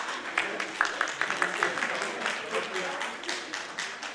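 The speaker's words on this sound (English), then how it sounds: "Huge round of applause." Audience at a social work conclave claps for a participant named Vishnu, a moderate, irregular patter of hands with a voice briefly over it.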